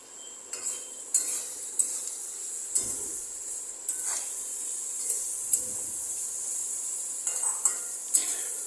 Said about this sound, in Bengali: লো টু মিডিয়াম ফ্লেমে আমি কিন্তু এই সবজিগুলো ভেজে নিচ্ছি